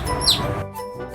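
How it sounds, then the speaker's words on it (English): A baby chick chirping, a few short high-pitched peeps close by, bright and brief, heard alone before cutting off into quiet. "chicks, or we can also call them birds"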